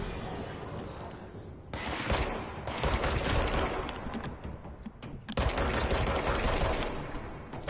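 Gunfire in the video game Control: bursts of rapid automatic shots crackle loudly in two long volleys separated by a brief lull, dense and close.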